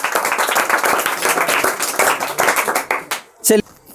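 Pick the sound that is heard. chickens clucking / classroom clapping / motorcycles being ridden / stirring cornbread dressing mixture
classroom clapping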